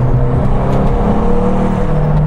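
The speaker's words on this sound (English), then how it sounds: "Just a snorting from these turbos" McLaren Grand Tourer, a 707 hp car, its engine droning loud and close from inside the cabin as it accelerates, a steady low growl with faint turbo whooshes layered on top.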